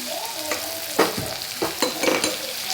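Crushed chillies and garlic hit a hot frying pan after curry leaves, stirred with a few scraping strokes over a steady close sizzle, no one talking.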